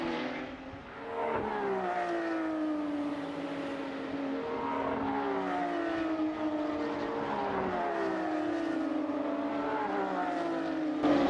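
Porsche GT3 Cup race cars at Mazda Raceway Laguna Seca during a 2013 Porsche GT3 Cup Challenge race: a loud, continuous engine drone from several cars, their pitch sweeping up and down as they accelerate and shift.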